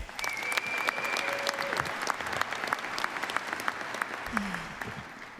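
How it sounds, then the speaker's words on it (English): Sustained audience applause at a university commencement ceremony (Embry-Riddle, Prescott), a dense steady wash of clapping that holds at an even loudness throughout with no voices above it. "How about one more round of applause for all our outstanding graduates today?"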